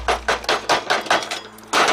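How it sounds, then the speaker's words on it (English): Pliers knock against the bent metal tabs of a tin can during the build of a rocket stove, giving about eight sharp metallic taps in a quick, uneven rhythm, close up and loud, with no talk. "I'm kind of having to hammer these back a little bit with pliers."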